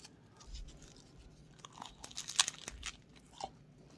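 Crunchy cup noodle snack being eaten up close, a series of sharp crisp crunches and bites with softer chewing between them, no talk.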